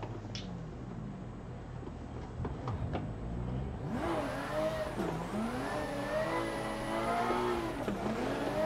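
Engine of a Toyota JZX90 drift car in the video game Assetto Corsa, a steady mid-pitched drone that rises into a sustained rev with wavering pitch as the throttle works, loud and continuous without talk.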